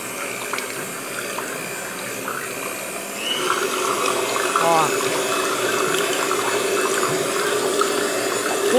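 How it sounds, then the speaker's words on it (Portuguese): An electric hand mixer whirs steadily while beating homemade soap as alcohol is poured in. The liquid adds a gurgling, splashing layer that grows louder midway, all fairly close and continuous. "Conforme eu for jogando o álcool, eu vou batendo a batedeira."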